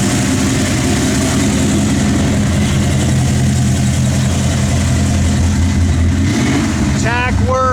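A 1968 Chevrolet Nova SS engine runs loud and close at a steady idle with a low rumble, then blips briefly higher near the end as a short squeak sounds.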